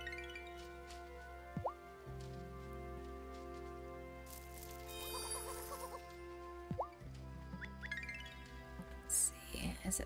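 Chickens in Wylde Flowers cluck softly and intermittently in a farmyard, with short rising calls scattered among light dripping and pattering sounds and quiet background music.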